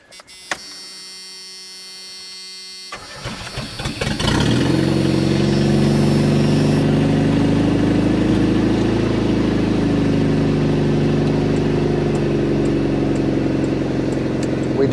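Chevy S10 pickup engine cranking briefly, catching and settling into a loud, steady, close idle hum that runs to the end.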